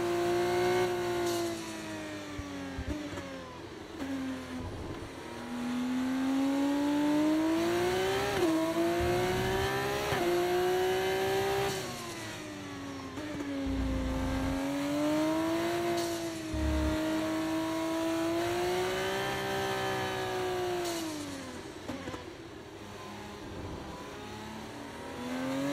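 Formula 2 race car engines from the F1 24 video game at Bahrain scream steadily, the pitch climbing and dropping sharply through each gear shift. The revving carries on continuously with no talk.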